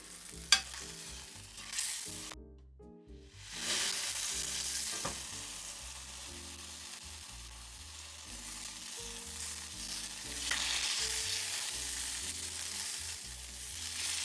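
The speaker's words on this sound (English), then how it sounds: "Well, we need to sear the ends, I guess, too" Beef tenderloin ends seared in a hot pan for beef Wellington, a loud steady sizzle with scattered scrapes and clunks of the meat being turned, and a brief quiet gap early on before the frying swells again.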